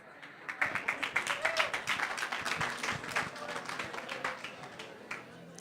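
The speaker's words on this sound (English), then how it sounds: "Give him a big round of applause." Conference audience at a personal-finance event applauding to welcome a speaker: dense, rapid crowd clapping swells quickly and holds steady, then thins out near the end, with faint voices beneath.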